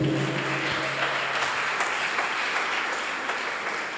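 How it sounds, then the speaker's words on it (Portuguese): A church congregation applauds during a Portuguese-language sermon, a steady, dense wash of clapping from many hands that fills the whole stretch without pause. "Quer aplaudir o Senhor? Pode aplaudir."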